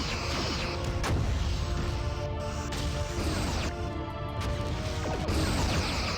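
Phaser fire striking starship shields in a Star Trek ship battle game between a Miranda-class vessel and USS Prometheus, repeated heavy crashing impacts every second or so over a constant dense roar of combat noise.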